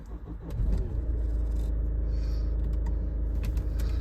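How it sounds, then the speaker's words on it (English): A Ford Kuga engine turns over and catches, then settles into a steady low idle rumble with a few faint clicks, close by and with no voices. "The fault itself is start the car"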